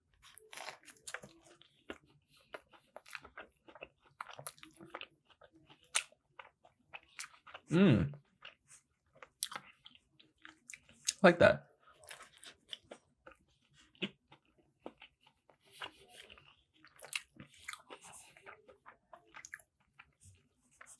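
Crunchy bites and chewing on a KFC chicken sandwich with a dense piece of chicken and cheese sauce, close up, with two louder crunches among soft, irregular mouth noises, plus a brief remark spoken between bites.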